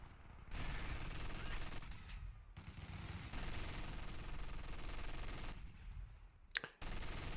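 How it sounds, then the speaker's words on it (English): An MG42 machine gun firing in a WWII video game, with dense sustained bursts of automatic fire and battle noise, mostly continuous with brief pauses, under a speaking voice. "MG42 sounding off in the middle, scaring away those Brits"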